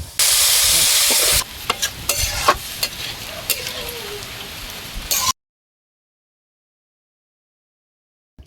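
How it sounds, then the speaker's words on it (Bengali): Mung dal with taro being stirred and fried in a pan: a loud steady sizzle at the start, then scraping stirs and crackles that continue for about five seconds before stopping abruptly into silence. "এবারে 2-3 মিনিট কষিয়ে নেব"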